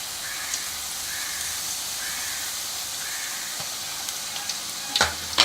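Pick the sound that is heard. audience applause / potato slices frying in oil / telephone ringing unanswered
potato slices frying in oil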